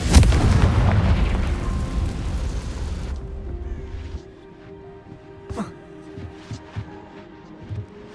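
A Confringo fire spell is cast in Hogwarts Legacy and bursts in a loud, rumbling explosion that slowly fades, followed by quieter scattered cracks and thuds.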